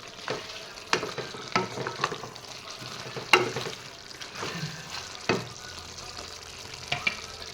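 Chicken and potatoes cooking in their own released juices in a pot, a soft low simmer under repeated scraping stirs and clinks of a spoon against the pot, fairly quiet and without speech.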